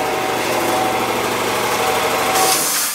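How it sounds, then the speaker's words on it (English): Air compressor droning steadily in a garage during a 1966 Chevy Nova rebuild, a loud continuous motor hum with a faint tonal whine and an even buzzing pulse throughout. "Oh, this air compressor is driving me nuts."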